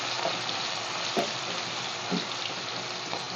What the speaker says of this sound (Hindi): ऑयल थोड़ा सा गर्म था इसलिए। चटाके मार रहा है।